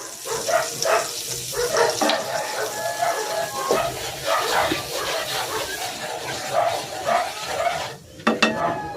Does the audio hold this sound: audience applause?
no